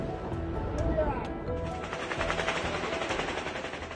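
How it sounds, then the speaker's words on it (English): Rapid bursts of automatic gunfire are aimed skyward during a suspected drone attack in Russia's Pskov region, a dense rattling series with a voice talking underneath. "Gunfire was aimed at the sky during a suspected drone attack in the Pskov region."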